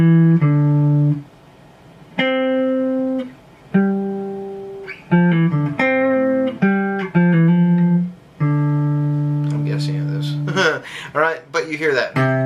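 Piano-like tones play a perfect fifth from C up to G, echoing the Star Wars theme, as sustained notes and short phrases, followed by a faster run of notes near the end; no one speaks.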